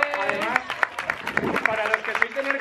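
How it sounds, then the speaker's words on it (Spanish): Audience applause at a fan meetup in Nerja, greeting the town's tourism councillor: scattered, crisp claps from a crowd, fairly close, running beneath continuous talking voices. "así que un aplauso"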